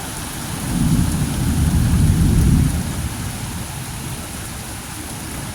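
Deep thunder rumbles loudly through a thunderstorm, swelling then fading over a couple of seconds, while steady rain hisses on surfaces throughout.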